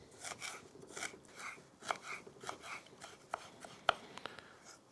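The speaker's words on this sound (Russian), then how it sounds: "нарежу его на маленькие кубики." A knife chops ginger into small cubes on a board in quick, uneven strokes, with a few sharper taps standing out; close and fairly quiet, no talking.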